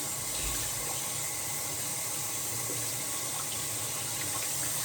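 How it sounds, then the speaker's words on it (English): Tap water runs steadily into a sink as a shaving brush is rinsed under it, a constant close hiss and splash with no talking. "wash the brush out."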